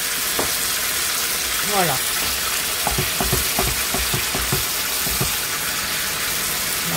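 Turkey pieces searing in a hot pan with a loud, constant frying sizzle and a run of sharp clattering utensil knocks near the middle, close up, while a voice speaks a single short word.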